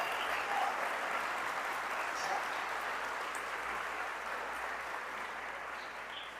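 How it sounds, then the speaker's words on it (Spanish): Church congregation applauding during a Spanish-language worship service, a soft, distant wash of steady clapping that slowly tapers off, with faint voices mixed in. "Fuerte el aplauso al Señor."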